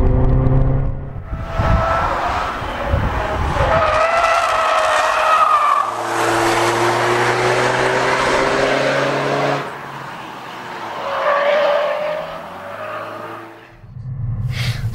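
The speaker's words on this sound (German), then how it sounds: "Wir haben einfach jetzt zu viel Geschwindigkeit reingenommen und die Flanke fällt ein und wir fahren quasi über die Flanke des Reifens." A car under test on Dunlop tyres skids at too much speed as the sidewall collapses and it rides over the tyre flank, with long, loud tyre squeals and engine drone sweeping past in several waves.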